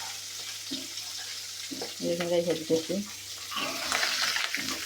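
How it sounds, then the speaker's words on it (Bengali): Pabda fish frying lightly in oil in a pan, a steady close sizzle with utensil clatter and a short spoken remark over it. "হালকা করে ভেজে নিচ্ছি এপাত এপাত, বেশি ভাজার দরকার নেই"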